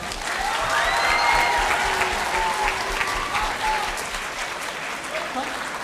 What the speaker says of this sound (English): we'd like to have a huge round of applause for all the performers and speakers today